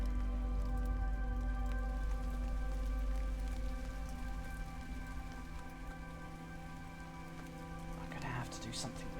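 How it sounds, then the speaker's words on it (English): Steady rain patters on surfaces in the Moncage game world, a continuous soft hiss of drops under a low electrical hum, with a person talking faintly over it. "It's raining in this world"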